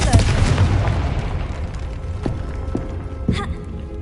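A blasting curse, Confringo, detonates in the Hogwarts Legacy video game: a dense booming rumble with several sharp bursts cracking through it, steady and loud throughout.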